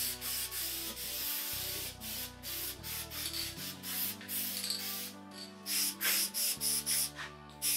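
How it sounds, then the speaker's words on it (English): Aerosol can spraying a light red starter coat onto a Harley Sportster bobber part, short bursts of hiss in an uneven rhythm, close and clear. "We'll do a nice light coat in the beginning. Just like a little starter coat there."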